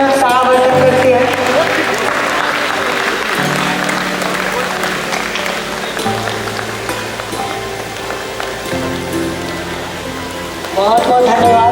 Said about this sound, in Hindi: कृपया तालियों से अभिनंदन करते रहिए